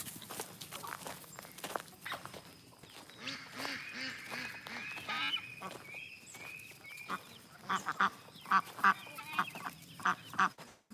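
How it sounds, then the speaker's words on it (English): Muscovy ducks quacking and murmuring nearby, with several sharper calls toward the end and soft shuffling of feet on the ground. "Those are Muscovy ducks."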